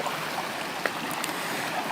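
A mountain river runs with a continuous soft rush and trickle of water, fairly quiet and steady, with a couple of faint brief clicks in the flow and no voices.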